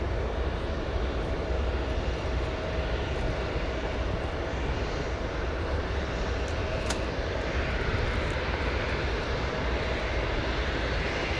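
Airliners taxi on the ground at O'Hare airport, a steady, continuous engine drone with a thin tonal whine, moderately distant and unchanging, with no voices.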